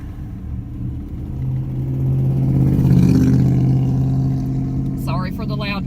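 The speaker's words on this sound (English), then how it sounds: "Sorry for the loud vehicles" Loud vehicles pass in heavy traffic outside a car with its windows cracked, a swelling engine rumble that peaks midway and fades, with a brief higher whine near the end.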